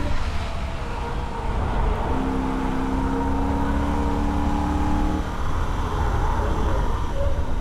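A Holden VF Ute runs a record lap of the Nürburgring at wide-open throttle, its engine roaring steadily and close, with a rising pitch as it accelerates out of a corner, alone without voices.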